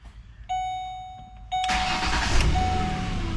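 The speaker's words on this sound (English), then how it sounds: "Let's get in here and crank this old Explorer up." A Ford Explorer V6 cranks over briefly, with a door chime pinging, then fires and settles into a steady close idle, with no talking.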